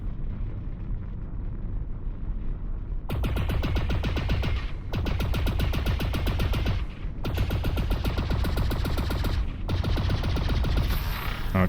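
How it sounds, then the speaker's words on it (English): An ionized bolt weapon in Lone Echo 2 fires in rapid sustained bursts, dense rattling volleys in three long runs separated by brief pauses, loud and close, with no speech. "The ionized bolts of your armament are surprisingly slow."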